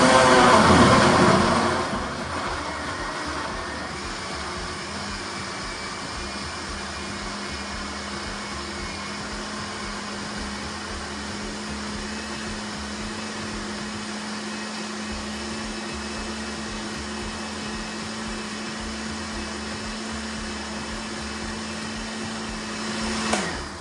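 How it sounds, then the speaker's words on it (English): Electric blender pureeing a fire-roasted salsa with lemon, a steady loud motor whir running continuously for the whole stretch, with a brief burst at start and end. "Let's go ahead and blend it up"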